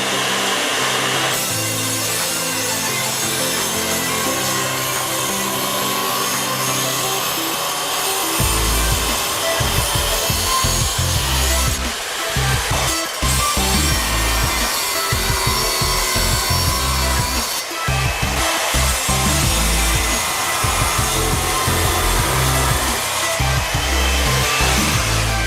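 A Ridgid wet saw fitted with a QEP 7-inch diamond glass blade runs with a steady whine, then bites into glass with a loud, sustained grinding rasp broken by brief pauses.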